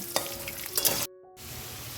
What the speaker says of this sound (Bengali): প্রথমে আগে আমি আলুগুলোকে লাল লাল করে ভেজে নেব